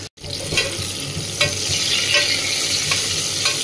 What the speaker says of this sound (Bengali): আলুটা মোটামুটি ফ্রাই হয়ে গেছে